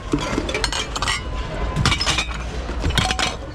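Glass plates, saucers and dishes clinking and knocking together as they are shifted around in a dumpster, a steady run of close, sharp clinks and rattles with no talking.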